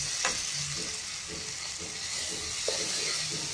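Green peas sizzle and fry in a pan with turmeric and Kashmiri chili, a steady close hiss with occasional stirring scrapes.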